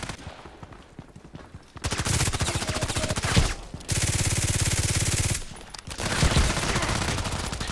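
Rapid automatic bursts from a Glock 18 in a video game crackle loudly in several long strings, separated by short quiet gaps where the weapon reloads.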